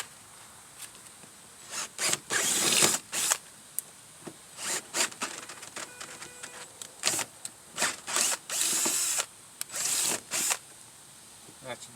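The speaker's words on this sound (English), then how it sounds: "So I'm making my hole. I got a 13/64 drill bit." A power drill with a 13/64 bit bores a hole for a pop rivet during a Chevy Tahoe limb riser install, delivering repeated short whirring bursts with pauses between, close and fairly loud.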